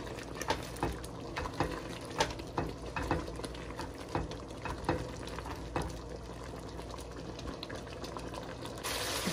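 Chicken karahi frying in a pan with tomato, salt and garam masala, stirred and sizzling steadily, with repeated scraping strokes of a utensil over a continuous bubbling hiss, close up and alone.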